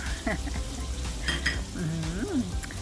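Eggplant stir-fried with pork, eggs and soybean paste sizzles in a pan, with soft scraping of a utensil as the mixture is gently stirred, a steady close frying hiss throughout.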